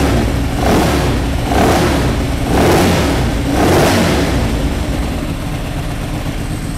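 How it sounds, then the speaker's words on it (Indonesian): A Ducati Streetfighter with a Termik exhaust revs hard in four rising surges, each throttle blip roaring and then falling back, loud and close, with a raspy exhaust note throughout. "itulah suara motor yang kayak mesin jahit ataupun mesin giling"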